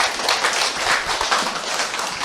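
An audience in a seminar hall claps continuously, producing a dense, steady wash of many hands at fairly loud level.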